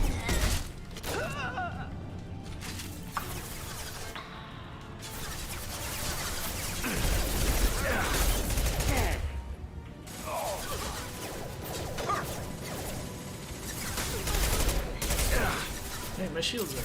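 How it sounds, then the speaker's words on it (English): Rifle gunfire in Mass Effect 2, dense bursts of shots and mechanical clatter layered over steady game noise and music, loud and continuous throughout. "I love this rifle. Next. Not difficult. Firing now."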